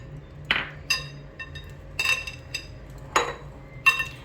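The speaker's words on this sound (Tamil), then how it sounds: "இப்போ பட்டர் போட்டு இதை மிக்ஸ் பண்ணுறேன்." A utensil clinks and scrapes against a bowl while almond flour, maida and butter are mixed for a mango tart dough, with sharp taps spaced irregularly and close.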